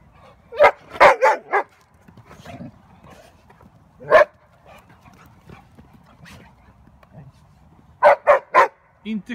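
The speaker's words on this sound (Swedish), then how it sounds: "Inte skälla, Alice." A playful dog named Alice at a dog park in Täby gives sharp, close barks in short bursts: a cluster early on, a single bark midway, then another quick run near the end, with quiet gaps and faint background between.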